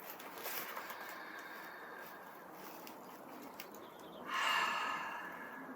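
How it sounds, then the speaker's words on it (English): Slow, deep breaths drawn in through the nose during a relaxation exercise, a soft, close airy rush that stays faint for several seconds before a fuller inhale swells near the end. "I'm just going to take a few nice deep breaths, breathing in through the nose"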